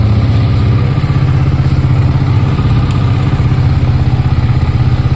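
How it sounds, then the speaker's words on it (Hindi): Yamaha motorcycle idling after a cold start, a steady, loud, close-up thumping engine rhythm that holds evenly throughout with a light mechanical clatter on top. "तो बाइक को कोल्ड स्टार्ट होने देते हैं"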